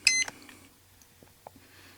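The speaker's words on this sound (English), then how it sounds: "You'll hear a beep" A short, sharp electronic beep opens the clip, followed by faint clicks and quiet room tone.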